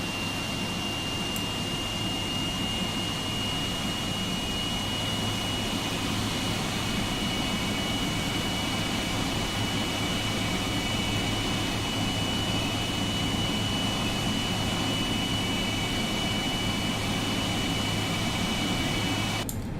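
A Boeing 777 jet engine spools up in the X-Plane 11 flight simulator, a steady broadband whine and roar with a thin high tone running throughout, with no talking.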